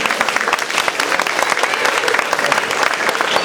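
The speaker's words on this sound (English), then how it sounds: "Nice round of applause for Mr. Sayers," An audience at a children's stage production breaks into dense, loud applause, a continuous crackling wall of many hands clapping with no single claps standing out.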